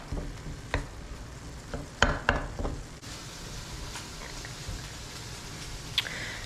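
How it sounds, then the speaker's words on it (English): Ground meat browning in a pan for a bolognese sauce gives a soft, steady sizzle at low volume, broken by a few sharper stirring knocks and scrapes, with no talking. "while the meat is browning in the background"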